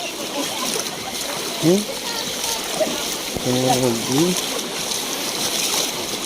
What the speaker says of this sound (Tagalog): Malakas ang baha banda dito.